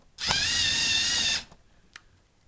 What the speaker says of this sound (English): It's quite noisy. That's just from the motor,